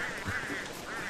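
A bird in the Don't Starve Together video game lets out a harsh, nasal, quacking squawk, loud and continuous for about a second.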